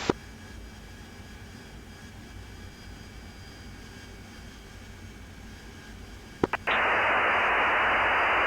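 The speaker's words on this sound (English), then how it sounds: "the aircraft are just coming into base now" A light aircraft approaching to land, its engine a steady, muffled drone, then a couple of sharp clicks as an ATC radio keys up and a loud burst of hissing static takes over.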